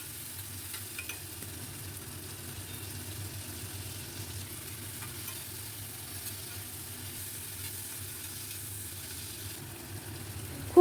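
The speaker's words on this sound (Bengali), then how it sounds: "প্রথমে আমি কেটে রাখা টমেটো দিলাম, খুব ভালো করে ভেজে নেব" Chopped tomatoes with a little salt fry in a pan for a chickpea curry, a soft, steady sizzle that runs throughout at low volume with no voices.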